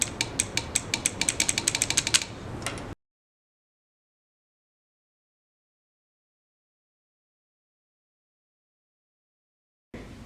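A small relay powered by a small power supply clicks in a quick run of sharp, close ticks for about three seconds, then goes silent. A brief burst of noise returns at the very end.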